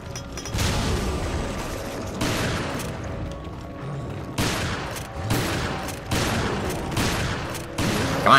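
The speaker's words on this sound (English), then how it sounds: "Okay, grenade." Sustained gunfire in Resident Evil: Revelations, with a grenade blast among repeated heavy bursts and booming impacts at several points, loud and dense throughout, with no talk.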